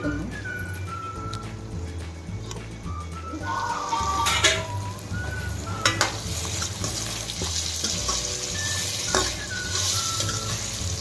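Okra sizzling and frying in a pan for a ladies finger dal, a steady crackling hiss close by with occasional sharper pops and stirring clatter throughout.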